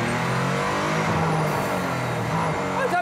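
A Mercedes-AMG One hypercar with a 1,063 hp Formula 1-derived engine roars loudly and steadily close by, holding a dense continuous drone throughout with no pauses.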